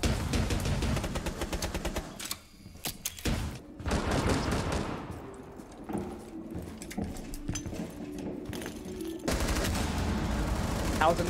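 Rapid bursts of automatic gunfire from the video game Rainbow Six Siege, played on the reworked Consulate map, crackle loudly and almost continuously, with short lulls between volleys.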